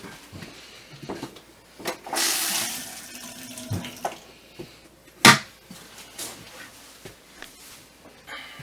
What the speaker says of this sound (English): Inside your bathroom, you have a foot flush Thetford toilet.